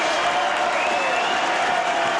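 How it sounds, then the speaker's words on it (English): Halifax rugby league crowd applauding steadily as a player leaves the field during a substitution, a dense, continuous wash of clapping throughout with no talk. "Jeff Wildman Robinson getting a good round of applause from the Halifax crowd."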